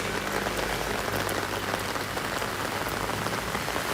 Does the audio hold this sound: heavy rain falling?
yes